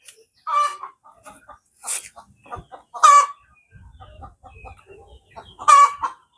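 A hen clucks and cackles loudly near its nest, with several sharp, bursting calls spaced a second or two apart and softer rustling and scratching between them.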